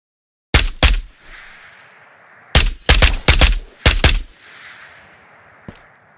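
Gunfire in the Ghost of Tabor VR shooter: two sharp, loud shots, then a pause, then a quick cluster of four or five close shots, each leaving a short echoing tail, with no talking.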